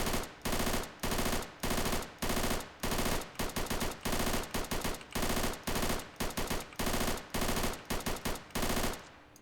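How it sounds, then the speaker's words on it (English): A PPSh-41 submachine gun with a 71-round drum magazine, in the ARMA 3 Iron Front WW2 mod, fires loud, close bursts of rapid automatic fire, about a dozen separated by short pauses, with no voices. "This is the PPSH-41 with the 71 round drum mag. There, that's what I wanted to say. So let's fire this."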